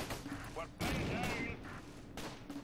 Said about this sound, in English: Both of these tanks are starting to drop some rounds